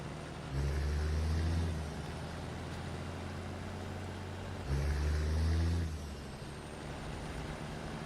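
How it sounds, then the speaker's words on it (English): Diesel truck engine in the Snowrunner off-road driving game, rumbling low and steady with two louder revving surges, each lasting about a second, alone without talk. "the audio sound in the background goes to like a diesel engine revving when I'm not hitting the gas"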